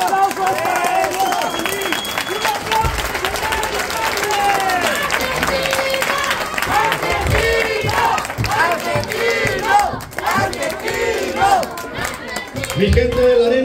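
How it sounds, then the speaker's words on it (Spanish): A wrestling arena crowd at Arena La Esperanza applauds and cheers during a tribute, with loud sustained clapping, shouts and whistles mixed with chatter, continuous throughout and swelling in bursts near the end. "¡Un aplauso para ellos!"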